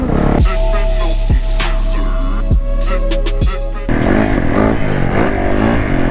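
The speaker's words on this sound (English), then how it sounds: "We're at the dirt bike track on street tires and a homie on a touring bike" A motorcycle on street tires rides a sandy dirt bike MX track, its loud, close engine droning at a steady pitch with periodic thumps, then shifting in tone near the end.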